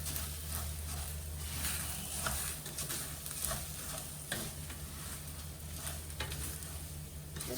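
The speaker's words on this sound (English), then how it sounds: "I'm gonna add the rice and then I'm gonna stir it a little bit, or I guess fry it" Rice stirred and frying in hot oil in a pan for a shaken beef dish, a steady close sizzle with scraping stir strokes throughout and no talking.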